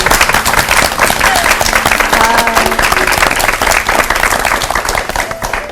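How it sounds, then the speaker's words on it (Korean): A church congregation at a revival service breaking into loud, sustained applause, a dense wash of many hands clapping that stays full throughout. "감사의 박수 한번 함께."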